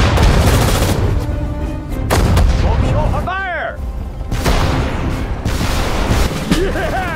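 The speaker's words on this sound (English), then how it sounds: "Fire at the target! Shoot them! Fire! Shoot them!" Loud bursts of gunfire and booming artillery blasts in the World War II strategy game Sudden Strike 4, in dense overlapping volleys, with shouted voices mixed in among the shots.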